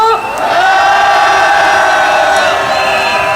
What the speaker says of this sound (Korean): 윤지훈님께 다시 한번 박수 보내주십시오